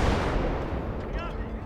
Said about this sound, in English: The 108 millimeter howitzer says hello.